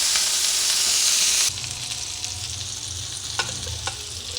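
Muthi kebabs fry in a little oil, a bright close sizzle that suddenly drops to a softer crackle, with a couple of light utensil taps.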